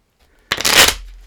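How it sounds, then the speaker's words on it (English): A deck of playing cards is shuffled in one quick, crisp riffle that rises into a dense flutter and cuts off after about half a second, close and alone. "so let's go ahead and just shuffle the cards so that no one knows where anything is here"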